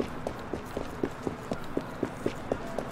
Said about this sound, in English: It's a carriage.